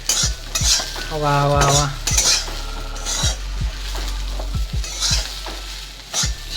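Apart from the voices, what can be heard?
stirring and mixing food in a frying pan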